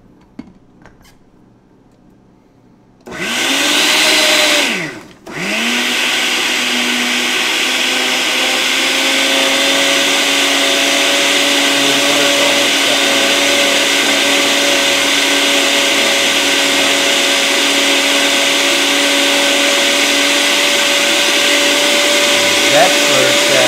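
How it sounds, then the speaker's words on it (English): An electric grinder blending crepe batter ingredients in a kitchen, starting with a short loud burst, pausing briefly, then running in a long steady whine near the mic. "I'm just going to grind it a little bit more."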